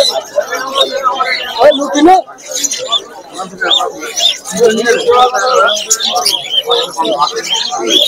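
Birds at a crowded pet bird market: dense, busy chirping and tweeting from many small birds, close and continuous, with a voice talking over it throughout.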